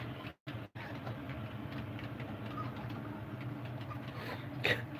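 A model Pacer train runs around a train set layout, giving a faint, steady rolling rumble with light clicking from the track that continues throughout, with no talk over it.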